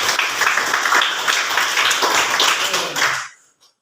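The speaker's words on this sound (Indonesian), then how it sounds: "Kita berikan dulu tepuk tangan buat temannya." Classroom of students clapping for a classmate's answer, brisk close handclaps with a few voices mixed in, stopping abruptly into near silence at the end.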